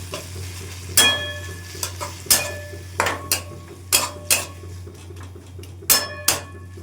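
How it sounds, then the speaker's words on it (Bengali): Puti fish curry being slowly stirred and sautéed in a pan: a spoon knocks and scrapes against the metal in spaced, irregular strikes over a low steady hum and gentle sizzle. "এবার ধীরে ধীরে আস্তে আস্তে কষাবো"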